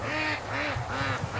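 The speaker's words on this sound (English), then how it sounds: "You can hear the geese." Geese in a farmyard with ducks nearby, calling in a run of four close, rhythmic honking cries, loud and close, with no talk.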